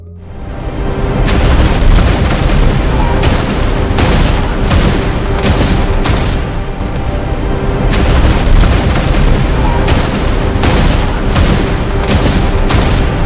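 Loud, continuous barrage of explosions and rapid gunfire, dense booms and cracks overlapping without pause.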